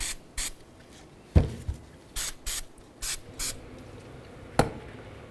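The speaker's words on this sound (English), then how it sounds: "Let's give these a quick spray down." Short bursts of aerosol spray onto front brake rotors and pads of a Dodge Durango, several quick hisses in an uneven rhythm, close up, with a few knocks and clicks between them.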